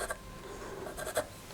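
Pencil scratching and marking on a curved wooden piece during woodworking, a few short rasping strokes, close and quiet with no talk.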